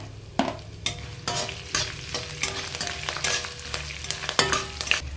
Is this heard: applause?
no